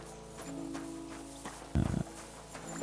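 Horses in the medieval game Kingdom Come: Deliverance II, with soft hoof clops and shuffling over a steady ambient bed, then a brief loud snort or whinny burst near the end.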